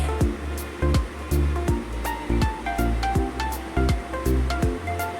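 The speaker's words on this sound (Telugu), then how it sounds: "కారపూస వేగే కొద్దీ ఆయిల్ బుడగలు అన్నవి అలా తగ్గిపోతూ ఉంటాయి" Oil sizzles and bubbles steadily as karapusa dough snacks deep-fry, a continuous hissing crackle with a regular pulsing rise and fall.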